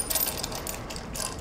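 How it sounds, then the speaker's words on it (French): A nut on a rear axle is tightened to set bearing preload, with a wrench giving soft, quick ratcheting clicks that repeat steadily at moderate loudness. "je vais serrer l'écrou ici pour ajouter une précharge de roulement sur mes roulements"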